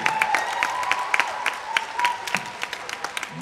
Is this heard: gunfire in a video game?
no